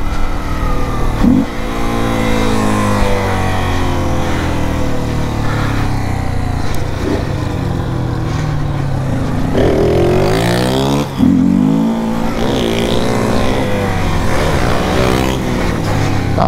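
Honda XRE 300 motorcycle ridden at night with its air filter removed, a loud, close engine note rising and falling through continuous revving and gear changes, with wind rumble throughout.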